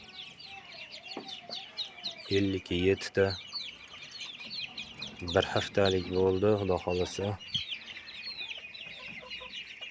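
Week-old chicks hatched by ducks chirp in a busy, high-pitched chorus that runs throughout, with occasional clucks, while someone speaks up close in two bursts.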